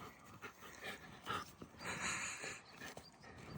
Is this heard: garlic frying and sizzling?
no